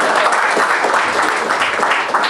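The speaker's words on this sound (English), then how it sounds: "Can we have a clap for Postman Pat turns yellow?" A comedy club crowd gives a loud, steady round of applause for a comedy act, dense clapping that carries evenly throughout with no voices over it.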